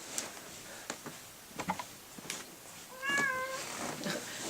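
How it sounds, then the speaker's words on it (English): A pet cat gives one soft meow near the end, faint and close, after a stretch of quiet ticks and rustles, with no talking. "And now I'm going to introduce you to my cats."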